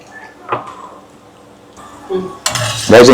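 A spoon stirs masala in a frying pan, making sparse scrapes and clinks with a soft sizzle, and a voice talks near the end.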